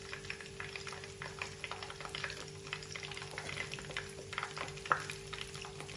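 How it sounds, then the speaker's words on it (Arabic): Cheese-filled qatayef frying in hot oil, a steady close sizzle with soft bubbling crackles and occasional stirring clinks, no talking. "بقليهم شي بسيط. بعد ما قليتهم هلا دغري بشيلهم من الزيت"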